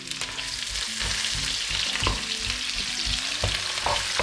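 Onion, chili and garlic frying in a pan for an Asian stir-fry noodle dinner, a steady crackling sizzle with clanks and scrapes of stirring at irregular intervals, close and fairly loud.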